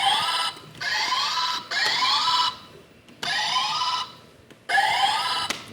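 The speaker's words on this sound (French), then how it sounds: "On va tester d'abord le buzzer." A quiz-show buzzer is tested with four loud, harsh electronic buzzes, each lasting about a second with short pauses between them.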